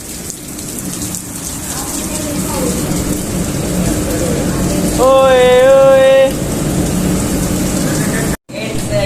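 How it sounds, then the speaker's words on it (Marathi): Heavy rain pours continuously with a dense hiss throughout, and a short tonal sound and a brief voice rise above it midway. "पाऊस आलाय बघू शकता पाऊस बघा पाऊस झाला"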